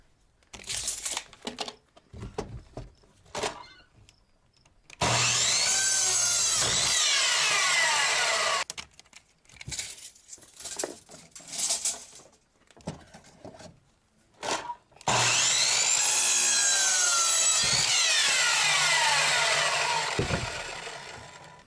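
Power saw cutting wood boards for the legs of a growing trough, two long loud cuts separated by shorter bursts and handling noise, heard up close.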